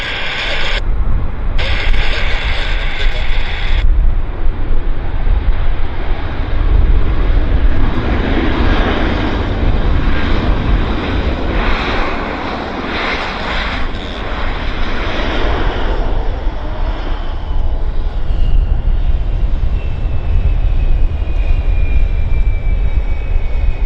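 A jet airliner takes off from Vancouver Airport, its broad engine roar loud and steady, swelling and holding for the whole stretch with no talk over it.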